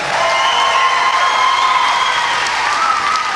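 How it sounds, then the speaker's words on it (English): Loud, steady applause and cheering from an arena crowd at the 2018 Saugeen Shores Battle of the Blades skating event, greeting the Caitlin Cobain Crusaders team, with scattered whistles and whoops riding over continuous clapping. "Give them a nice round of applause."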